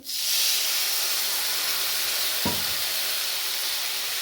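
Water poured into a pan of frying fish curry with man leaves bursts into a loud, steady hiss of sizzle and steam, sustained evenly throughout with a single soft knock midway and no talking.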